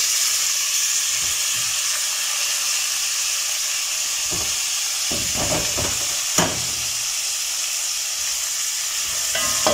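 Tomatoes and minced garlic frying in a pan for a tripe dish, a steady hiss of sizzling with occasional stirring clicks and scrapes, close and continuous, with no talking.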